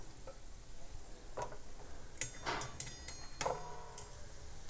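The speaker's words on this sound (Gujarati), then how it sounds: "હવે કોપરાની કતરીને પણ તળી લઈશું" Dried coconut slices frying in oil for a crisp cornflake chivda, a faint sizzle carrying sharp ticks and clinks of a spoon stirring through the pan.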